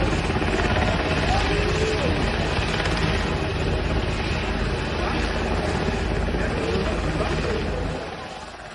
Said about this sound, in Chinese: 现在爬上直升飞机的这位女性名叫诺亚。